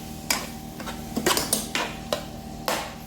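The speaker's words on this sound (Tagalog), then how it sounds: "At haluin uli natin." A metal spoon stirs sautéed tomatoes in a pan, scraping and clinking against the metal in about half a dozen distinct close knocks over a faint steady hum, with no talking.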